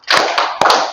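Group of children clapping in unison during a classroom clapping game, a few loud, close claps in quick succession with short reverberant tails.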